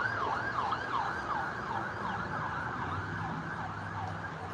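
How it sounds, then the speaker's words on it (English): An ambulance siren wails in a steady repeating up-and-down sweep as it crosses a bridge some distance away, sustained over a low road rumble near an Amtrak station in Ottumwa, Iowa. "Have a ambulance going across the bridge behind us right now."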